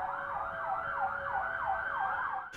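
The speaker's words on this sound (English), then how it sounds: "These Met vans used their sirens." A Metropolitan Police van siren sounds during a protest march through London streets, a loud, continuous wailing siren rising and falling in regular sweeps, close by and alone.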